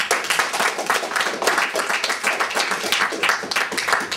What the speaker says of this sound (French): je crois que rien que pour ça on peut les applaudir